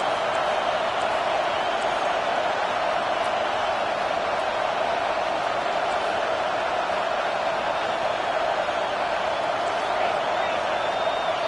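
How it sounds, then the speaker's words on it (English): A college football stadium crowd roars for the home defense, a dense, steady wall of cheering that holds at constant loudness throughout with no break. "Listen to this crowd just shaking the girders of this place"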